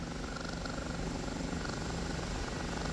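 OH-58 Kiowa helicopter in the DCS flight simulator, a steady dense rotor and turbine drone with a fast rhythmic chop, constant and unbroken throughout, with no talking.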